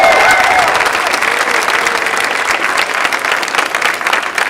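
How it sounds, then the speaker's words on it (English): Steady applause from a crowd at a public health policy event, dense clapping at an even level throughout. "Howard Zucker, Courtney Burke, let's give them a round of applause."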